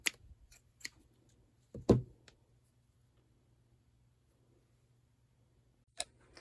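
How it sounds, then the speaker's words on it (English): Scissors trim zipper tape on a sewing project, giving a few faint close snips and clicks, one louder cut, then quiet before a final snip. "then I'm going to trim the zipper tape"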